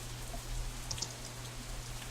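Rain sound effect in the visual novel game Katawa Shoujo, a soft, steady patter of falling drops with a low background hum, faint and continuous without speech.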